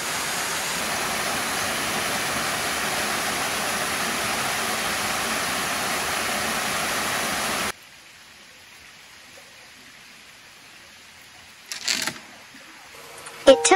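Gan Kutu waterfall, one of the Akame 48 falls, roars as a loud, steady wash of water for several seconds before cutting to near quiet with a few brief knocks and rustles.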